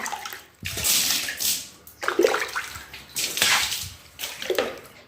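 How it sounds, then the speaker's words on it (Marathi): Water is splashed onto floor tiles in several separate bursts, each a loud rushing gush followed by brief quieter pauses, close by. "मी फरची असं पाणी टाकल्यानंतर"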